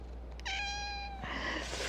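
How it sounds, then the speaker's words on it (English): A house cat gives one clear, drawn-out meow with a steady pitch, close by and alone over a low background hum, followed by faint rustling. "While your cat meows at you."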